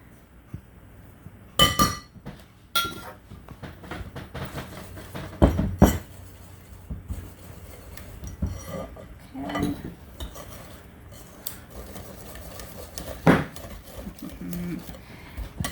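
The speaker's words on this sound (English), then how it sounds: "I think I'm going to go ahead and switch to my whisk now that I have it started a little bit." A whisk clinks and scrapes against a bowl while it beats an egg and butter filling for pecan pie bars. The sharp taps come irregularly over a faint background, with scattered soft knocks between them.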